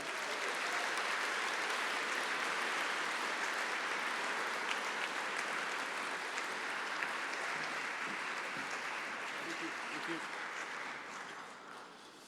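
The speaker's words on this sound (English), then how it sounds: "Let's give them applause, if we will." A large audience at a journalism awards ceremony gives steady, dense applause that holds evenly for several seconds before tapering off near the end.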